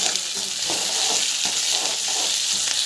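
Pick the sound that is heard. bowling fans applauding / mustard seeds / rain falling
mustard seeds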